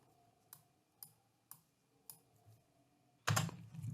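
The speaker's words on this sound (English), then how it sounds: "So I'm going to have to double click it, move it a little bit" Several sharp computer mouse clicks, spaced about half a second apart, are heard faintly in a quiet room, followed by a louder burst of broadband rustling noise near the end.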